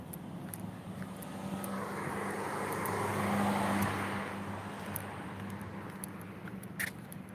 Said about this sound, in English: I'm going to stand or sit somewhere where I don't get much noise from the traffic.